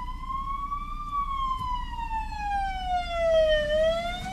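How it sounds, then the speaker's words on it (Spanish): An ambulance siren wails on a road during a drive, a clear, steady rising and falling tone over low traffic rumble, fairly close and alone without talk. "Ahí hay una ambulancia."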